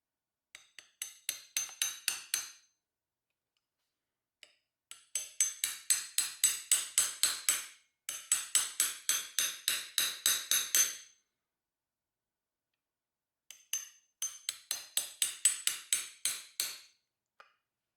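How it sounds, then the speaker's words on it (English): An 8mm socket is hammered to drive a Welch plug into a 1974 Honda CB360G engine, giving repeated sharp metallic taps in quick accelerating bursts of about ten strikes each, separated by silent pauses. "8mm socket. It's just a hair smaller, so I should be able to drive this in until this outer edge bottoms out"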